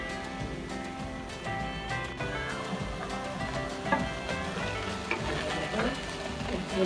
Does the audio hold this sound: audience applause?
no